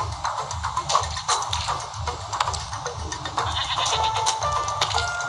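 Goats in a mountain-climbing video game bleating repeatedly during a fight, layered cries over a busy game soundtrack with shuffling effects.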